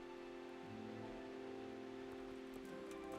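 Steady, soft rain hiss from a video game, with a low hum underneath, continuous and even throughout, faint and distant.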